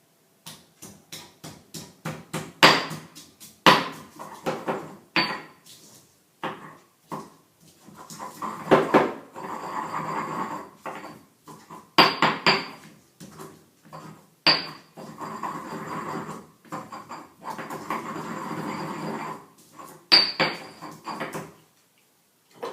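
Garlic pressed and pounded in a mortar for a cucumber cumin dip, a series of sharp knocks and clinks of pestle on the bowl in irregular bursts, close and fairly loud with quieter grinding between.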